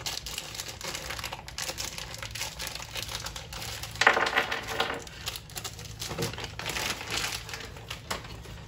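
A small plastic bag of upper ball joint parts for a Pontiac suspension is handled, giving soft crinkling and rustling with a few small metallic clicks and rattles, close by and intermittent.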